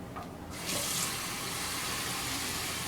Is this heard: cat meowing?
no